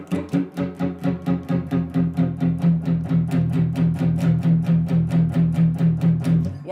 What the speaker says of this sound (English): So if we do the same thing with the distortion on,